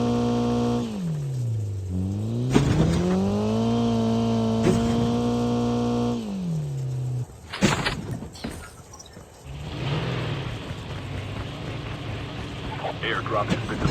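A vehicle engine in the Call of Duty Mobile battle royale hums and revs, its pitch dipping and rising for several seconds before it gives way to clattering game sounds.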